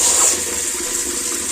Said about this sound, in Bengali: এই যে জল ট্যাঙ্কি ভরে গেছে, তো আওয়াজ হচ্ছে